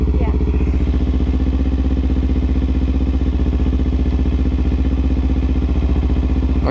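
A Kawasaki Ninja 300 EX carries a passenger on a road trip, its engine droning loud and steady with a pulsing throb and wind rush that run unbroken throughout.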